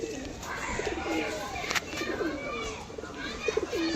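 Pigeons coo at a pigeon sale loft: several soft, throaty, rolling coos overlap at a close range, with faint voices and rustling in the background.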